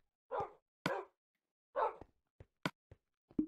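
A tamed dog in the Minecraft video game gives several short, clipped barks spaced unevenly, each sharp and distinct against a silent background.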